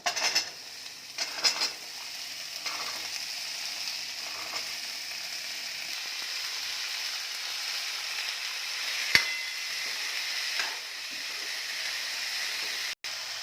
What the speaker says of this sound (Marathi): मम्मी कढईत तेल टाकून सर्व भाज्या परतून घेत आहे